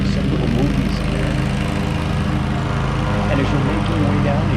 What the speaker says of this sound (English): you got the guy here mowing the lawn